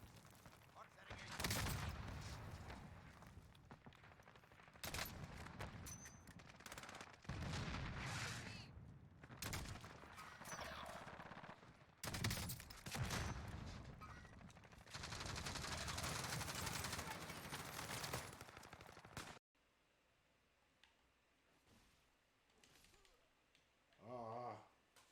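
Gunfire in the video game Farthest Frontier comes as dense, loud bursts of rapid shots. The volleys stop and restart over about twenty seconds, then give way to a quieter stretch with faint sounds.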